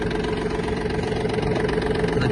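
A Yanmar F-180 Japanese mini tractor engine idles steadily and alone at close range, with an even, continuous low rumble and a faint knocking texture throughout.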